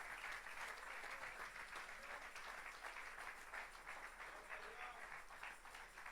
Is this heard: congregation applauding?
yes